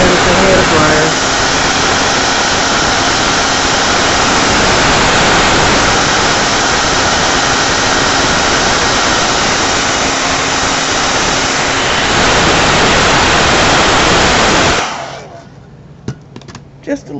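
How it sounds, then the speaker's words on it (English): A heat gun blows loudly and continuously while drying an art journal page, a steady close roar for about fifteen seconds before it cuts off, leaving a few quiet handling clicks. "I'll use the heat gun as a hair dryer."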